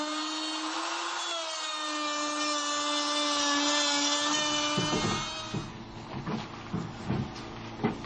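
A power drill drives screws through brackets into the rails of a DIY wooden playhouse, a steady high whine of the running drill for about five seconds, followed by clicks, bumps and scraping of handling work nearby.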